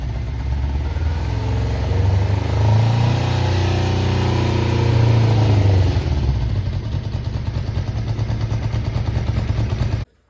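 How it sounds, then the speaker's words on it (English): A vintage motorcycle engine, smoking and leaking from the engine rather than the exhaust, runs steadily up close, its low rumble swelling briefly as if revved, then settling into a rough, even idle. "There's a lot of smoke coming out of the engine."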